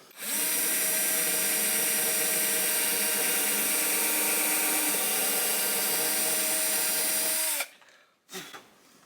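Power drill enlarging a pilot hole in an archtop guitar, whining at a steady high pitch close up for about seven seconds, then cutting off with a brief final burst.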